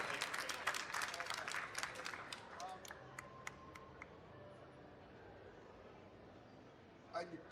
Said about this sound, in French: Rien que pour ça, vous pouvez l'applaudir,